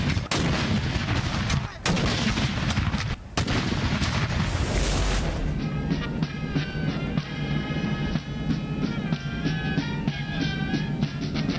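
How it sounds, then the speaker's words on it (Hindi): Cannon salute fired at Independence Day ceremonies in Pakistan's provincial capitals, heavy booming blasts that are loud and overlapping, followed by a sustained rumbling wash of reverberating gunfire. "सूबाई दारुल हुकूमतों में 21-21 तोपों की सलामी से दिन का आगाज"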